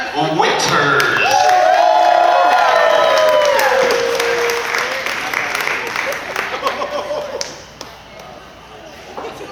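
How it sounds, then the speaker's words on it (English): Loud applause and cheering from a wedding reception crowd swell during the toasts, with whoops rising above the clapping, then gradually fade into scattered claps and murmurs. "Put your hands together for Mr. Brandon Winters."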